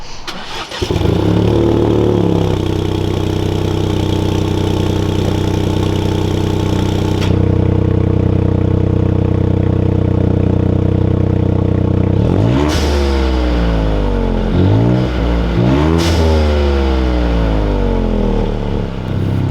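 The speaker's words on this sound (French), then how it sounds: "je vais vous faire un petit plan pour qu'on s'entende la sonorité de l'échappement, avec un petit peu le ralenti, quelques coups de pédale pour la passion" A Ford Fiesta ST exhaust is loud and close: the engine fires up, settles into a steady idle, then takes several sharp throttle blips that rise and fall in pitch before dropping back to idle.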